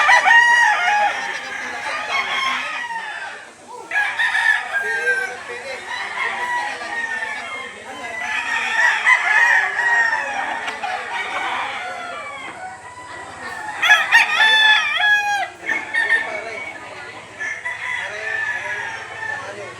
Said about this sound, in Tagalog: marami pang nakalatag na manok dito sa loob